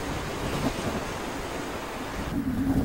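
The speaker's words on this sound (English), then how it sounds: "Windy day today." Wind blows on a gusty day after overnight rain, a constant, fairly soft broadband rush with slight swells and no voices.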